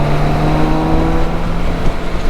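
A BMW K1600 GTL motorcycle engine hums steadily while riding, a smooth, continuous drone with a sustained low tone, loud and close throughout, with no voices.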